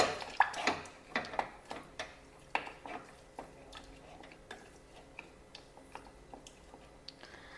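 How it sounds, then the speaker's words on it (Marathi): An aloe vera hair mixture, made with aloe that can be freshly cut from the plant, is stirred in a container, giving faint, irregular clinks and ticks at a quiet level with no talking. "आता हे व्यवस्थित मिक्स करून घ्यायचं आहे"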